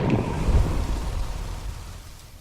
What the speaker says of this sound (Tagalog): Wala yan, titigil din ang kulog.